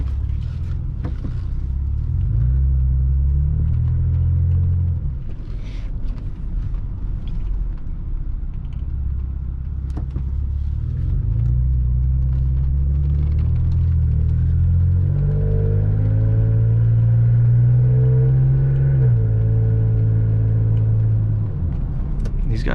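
A steady low exhaust drone from a second-generation Toyota Tacoma pickup truck on the move, rising and falling with throttle changes, loud and continuous throughout.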